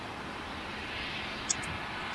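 Qantas Airbus A380-800 jet at LAX, a steady distant engine rumble holding at a moderate level, with a brief faint click near the middle.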